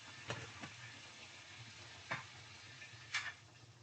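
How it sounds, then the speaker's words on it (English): Faint, steady frying hiss of meat in a hot pan, with a few soft clicks and pops scattered over a few seconds. "I like to let you guys hear that sizzle"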